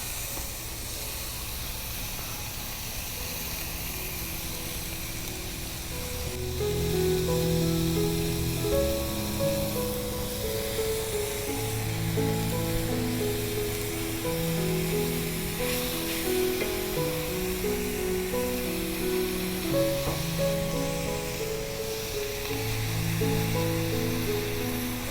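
Steady, full sizzling of steak frying in a hot pan for Philly cheesesteak, a broad constant hiss that swells slightly as the meat goes in, with soft background music.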